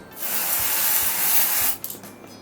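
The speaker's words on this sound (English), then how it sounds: "was a tinted lace aerosol spray" Tinted lace aerosol spray hisses steadily onto lace in a single sustained burst of nearly two seconds, close and fairly loud, then cuts off into a few soft handling clicks.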